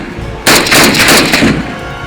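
A loud, abrupt burst of gunfire and return fire, several rapid shots crowded together, then quieter echoing fire trailing off.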